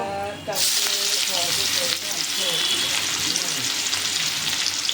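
Curry leaves drop into hot oil in a pan for black pea sambare, setting off a sudden loud sizzle after a brief quieter start, then a sustained close crackling hiss with no speech.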